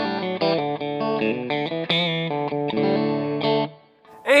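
Electric guitar through a distorted PRS DG T15 amp plays a quick run of sustained chords and notes, then trails off before a brief new chord.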